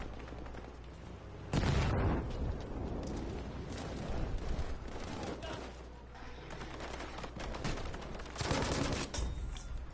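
Assault rifle fire in the shooter game Battlefield, with loud bursts and booming impacts rising and falling amid a dense, chaotic battle din.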